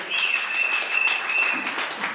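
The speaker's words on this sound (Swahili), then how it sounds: "Pigia Bwana wetu makofi" A church congregation claps steadily for about two seconds, dense and sustained applause with a faint high whistle-like tone running through it.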